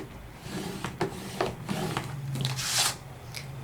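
A scoring tool drawn along a paper card base on a trimmer at the 4.25 line, giving a few soft scraping strokes and light taps with a brief rising swish near the end, close and quiet, no voices.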